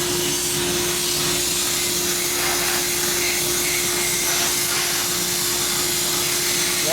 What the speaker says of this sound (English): While you blast the powder coat.